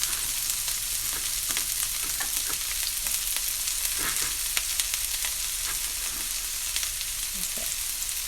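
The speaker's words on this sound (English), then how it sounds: "I put a little bit more oil, so I'm gonna fry my onion and pepper." Onion and pepper frying in oil in a pan for stir-fried cauliflower rice, giving a steady, even sizzle and hiss throughout with a few faint stirring scrapes and no talking.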